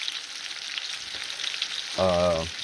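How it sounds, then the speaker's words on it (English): Meat searing in an oiled skillet for pot roast, a steady hiss of crackling sizzle, with a brief tonal beep partway through. "I do put, tablespoon or so of oil, I don't measure, in my skillet before I put the meat in there"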